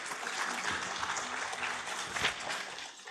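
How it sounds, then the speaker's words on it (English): A conference audience breaks into applause for a session chair, a brief burst of many hands clapping together at moderate distance, steady and fairly soft throughout. "Please give a huge round of applause for Dr. Paul."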